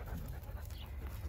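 Dogs panting softly near horses on a farm, a faint, steady breathy rhythm against low background rumble.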